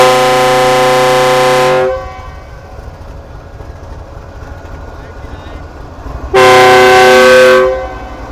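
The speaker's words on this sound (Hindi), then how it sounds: "डिपार्चर हॉर्न भी बस लगने वाला होगा।" The departure horn of the Pakistan Business Express train, two long, loud, close blasts separated by a pause filled with rumbling rail and carriage noise.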